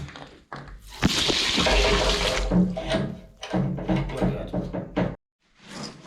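Water running and splashing during plumbing work in a gutted property with a wet room floor, bursts of gushing flow with brief pauses and some clunks, close and fairly loud.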